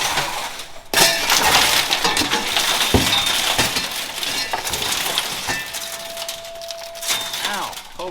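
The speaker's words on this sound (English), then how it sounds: "There's big glass falling on me here." Glass from a vandalized FJ45 rock crawler crashes and clinks down in loud bursts, with sharp breaking hits and a long scatter of tinkling shards close by; people talk briefly in between.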